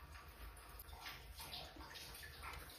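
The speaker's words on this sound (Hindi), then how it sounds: "पानी की टंकी की आवाज आ रही है।" Water pours steadily into a household water tank with a continuous rushing, splashing flow, heard faintly and without talk throughout.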